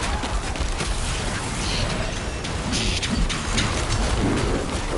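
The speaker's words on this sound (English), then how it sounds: "I heard the lightning strikes and it sounded like an old Indian chant" A lightning storm in Diablo 4, cast by a druid, makes a continuous rushing crackle of rain and electric strikes with several sharp bursts over a steady noisy wash.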